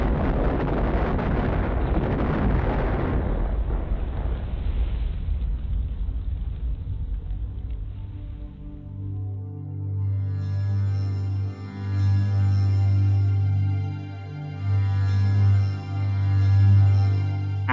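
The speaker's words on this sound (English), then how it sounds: "bombs rained down on the island, destroying fuel storage tanks and aircraft hangars" Heavy wartime bombing of an island, explosions destroying fuel storage tanks and aircraft hangars, rendered as a loud, continuous rumbling blast that fades into a sustained low roar and drone for the rest of the stretch.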